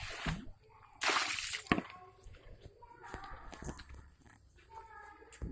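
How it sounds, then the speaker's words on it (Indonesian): Mountain spring water from an ablution place without a tap splashes and drips as feet are washed, with a loud gush near the start and scattered sloshing and drips after. "Saya akan mencoba mencuci kaki ya."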